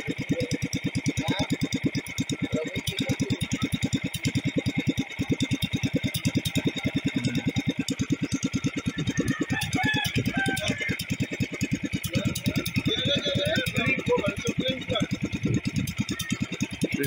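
Racing boat's Mercury 150 outboard engine, an SR 150 M2, idles during idle and fuel-mixture tuning, a steady rapid throbbing pulse running throughout with ambient noise over it.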